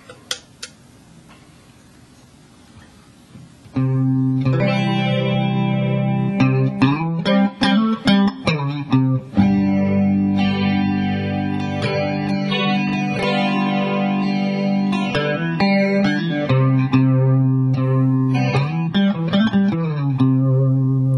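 An electric guitar plays chords and single notes through a Fulltone ChoralFlange pedal on a wide setting, a sweeping, shimmering modulation effect, after a few seconds of near silence.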